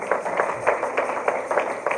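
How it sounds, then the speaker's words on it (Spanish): Church congregation clapping hands in a steady rhythm during worship, roughly four claps per second, moderately loud with a reverberant hall feel. "Dele palmas a nuestro Dios en esta hermosa hora"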